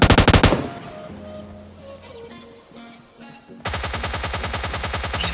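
Automatic gunfire in the PUBG Lite battle royale game: a loud rapid burst opens, then a quieter stretch with in-game tones, and a sustained fast rattle of shots closes it out, with no voices.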